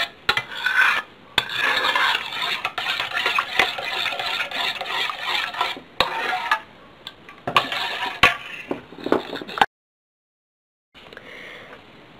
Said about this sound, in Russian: И тоже хорошенько перемешаем.